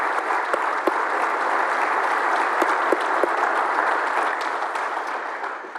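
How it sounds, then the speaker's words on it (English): Audience applause at a Baylor Baseball press conference, steady, dense clapping from a crowd that holds loud and even for about six seconds before easing slightly at the end. "let's give them a round of applause"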